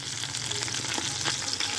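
Chicken thigh pan-seared with garlic in butter, a steady close hiss and crackle of sizzling fat filling the pan without any speech.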